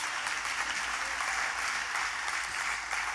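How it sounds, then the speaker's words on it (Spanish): A church congregation claps together, a steady, dense wash of applause that stays even throughout, with only faint voices under it. "Denle ese aplauso fuerte a Dios."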